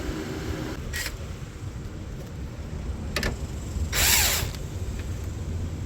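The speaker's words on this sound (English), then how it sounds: "Just gotta tighten up the 3 bolts up on top" A power tool tightens strut bolts on a 2002–2006 Honda CR-V during a front passenger strut replacement, with a few short whirring bursts and one longer burst near the end, close by amid quiet shop noise.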